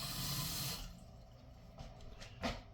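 A small splash of water, about a quarter cup, poured into a pan while making bacon from pork belly, heard as a brief faint trickle and splash after a louder opening wash of noise.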